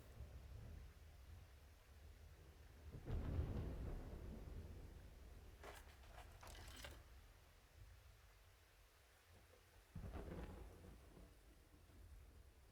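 Thunderstorm with rain in the video game Diluvian Winds: a steady wash of rain broken by a deep rolling thunderclap, brief crackling flashes and a second rumble later, no voices.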